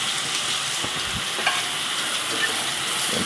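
Steaks sear in a hot grill pan for steak sandwiches, giving a steady, close, loud sizzle with a few scraping knocks as the meat shifts.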